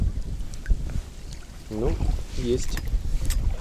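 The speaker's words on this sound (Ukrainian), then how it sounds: "Ух, прям такий вітер." Strong wind gusts roar and buffet the microphone on a cold spring day of feeder fishing by the water, a continuous rumbling bluster with a brief spoken word partway through.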